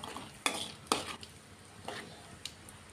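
Urad dal and mustard seeds frying in a tempering, a soft low sizzle broken by a few sharp clinks and scrapes of a spoon stirring in the pan, quiet and close.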